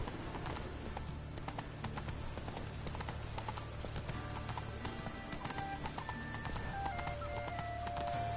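Roach, a horse in the Witcher video game, trotting with steady rhythmic hoof clip-clops over a dense bed of rain and game ambience.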